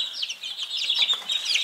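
Young roosters and hens in a poultry yard give a brief burst of rapid, high-pitched chirping and clucking, close and fairly quiet.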